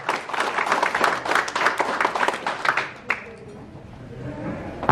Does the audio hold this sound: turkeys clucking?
no